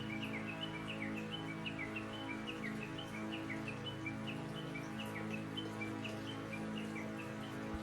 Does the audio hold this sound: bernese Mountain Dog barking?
no